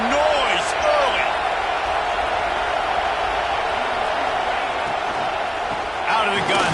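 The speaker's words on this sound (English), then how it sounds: "This crowd bringing the energy and noise early." A Georgia football stadium crowd roars in a steady, dense wash of noise that holds for the whole stretch, with a few whistles rising above the din.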